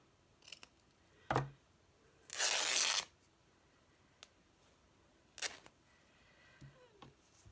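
Scissors cutting paper scraps lengthwise at close range, a few crisp snips and one longer rasping slice, spaced out between moments of quiet.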